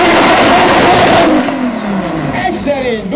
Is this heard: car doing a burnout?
yes